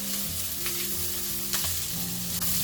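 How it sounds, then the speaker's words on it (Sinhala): Mushrooms and green chilies sizzle and crackle steadily as they stir-fry in a hot pan, with occasional soft scrapes from stirring; no voices. "අපිට විනාඩි 3ක් 4ක් විතර මේක වැඩි කින්දර හොඳට ෆ්‍රයි කරගමු"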